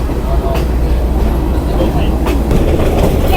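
A train on the Nuwara Eliya to Ella line in Sri Lanka rolls slowly through hill country, a steady close rumble and rattle of the carriages with faint voices mixed in.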